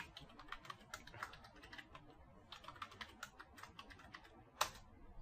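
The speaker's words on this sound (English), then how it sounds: "it's necessary that we have a root password, so I'll just type it." Keyboard typing as a password is entered, a quick, even run of light key clicks with a brief pause partway through and one firmer keystroke near the end, quiet and close, no talking.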